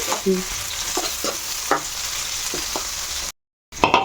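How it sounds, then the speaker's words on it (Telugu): Onions frying in a pan toward a light brown, with a steady hiss broken by several sharp scraping stirs and a brief silent gap before the sizzle returns. "కొంచెం బ్రౌన్ కలర్ వచ్చేంత వరకు వేయించుకుందాం"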